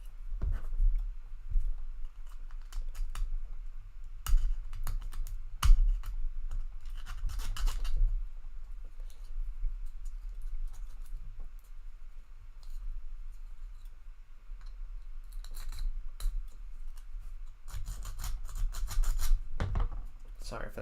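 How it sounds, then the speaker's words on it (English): Scraping and filing leftover strings out of a handmade part, heard as irregular bursts of gritty rasping strokes close by, broken by quieter pauses, with no speech over it. "I need to just kind of file this out a bit, or scrape it out."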